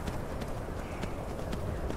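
Horse hooves clip-clopping in The Elder Scrolls video game, a steady run of soft, fairly even hoof falls over a constant background bed, no voices.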